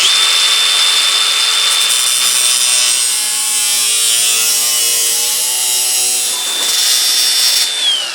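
A high-pitched power tool, such as a cutoff wheel, slices at an angle through the lip of a steel truck hood on a GMT800 pickup, making a loud, continuous whine that wavers in pitch as the cut goes on.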